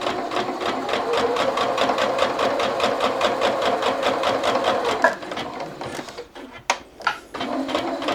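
A sewing machine stitches rows of a rag quilt, running loud and close with fast rhythmic needle clatter for about five seconds, then stopping and giving a few short bursts and handling noises.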